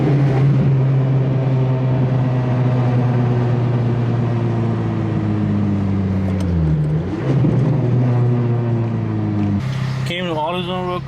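Acura RSX Type S engine idling up close, a loud steady drone with harmonics whose pitch dips briefly and then recovers, ending with a higher warbling tone.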